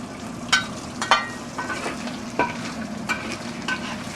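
Shrimp are stir-fried in smoking-hot oil with sharp spatula scrapes and clanks against the pan, about six distinct strokes over a steady sizzle, close up and without talk.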